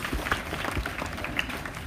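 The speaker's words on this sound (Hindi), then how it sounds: "जोरदार ताली बजा देंगे ब्रदर के लिए।" At a church gathering in Sonari, Jamshedpur, a congregation claps for Brother Johnson. Continuous crowd applause fills the short moment at close range.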